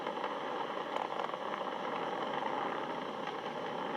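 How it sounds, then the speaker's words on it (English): SpaceX Falcon 9 engines throttling down during the May 2020 NASA crewed launch, a steady distant broadband roar with a faint crackling texture, constant in level throughout. "We're throttling down to get ready for the period of maximum dynamic pressure."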